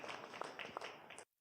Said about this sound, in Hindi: जोरदार तालियां ख्याति और अर्पिता के लिए